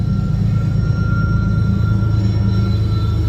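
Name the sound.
CSX mid-engine freight train passing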